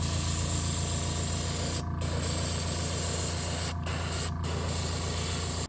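An airbrush or spray gun laying a white base coat on a wooden glide bait, a continuous close hiss with a low motor hum beneath, briefly interrupted a few times, no talk.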